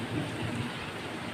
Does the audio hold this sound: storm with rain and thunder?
yes